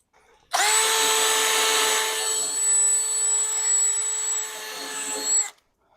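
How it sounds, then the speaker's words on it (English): Electric drill scuffing old paint off a classic Pontiac Firebird body in a tight spot, a loud steady high whine with grinding rasp lasting about five seconds before cutting off. "as you can see on the drill, it's just scuffing it up"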